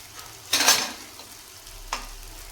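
Potato snacks frying in oil in a pan, with two short bursts of sizzling and stirring, the first louder, set against a quiet background with no speech.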